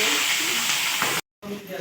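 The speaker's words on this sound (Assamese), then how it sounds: "এতিয়া অকণমান ভাজি ল'ম" Onion, garlic and green chili fry together in mustard oil with a steady, close sizzling hiss that cuts out briefly near the end before resuming.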